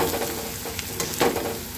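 Spices and red chilli powder stirred in a hot iron kadhai for pithale, with a steady sizzle and a few scraping strokes, one louder stir near the end.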